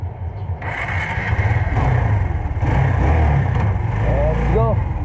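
A motorcycle engine fired up with a one-click electric starter, catching quickly and settling into a loud, steady idle close by, with a person talking over it.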